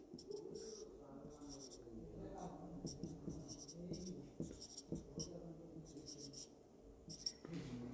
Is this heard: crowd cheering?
no